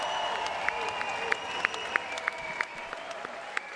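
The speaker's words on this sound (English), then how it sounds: "let's have a round of applause for these 2 warriors." A crowd at a bare-knuckle fight event applauds two fighters after a five-round bout, giving steady, moderately distant clapping with scattered sharper claps cutting through the wash.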